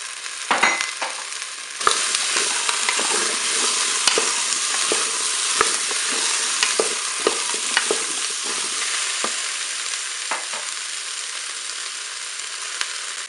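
Onions hit hot oil in a Cookeo pressure cooker, setting off a loud, continuous sizzle. Scattered clicks and scrapes of stirring run through it.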